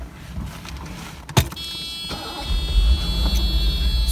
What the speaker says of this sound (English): I will go ahead and start the car for you.